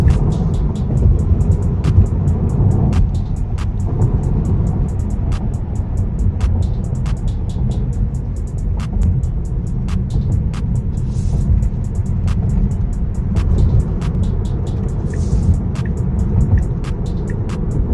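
Tesla Model 3 Long Range electric car driving through city streets, heard from inside as a steady low rumble of road and tire noise with faint intermittent clicks, continuous and fairly loud throughout, no talking.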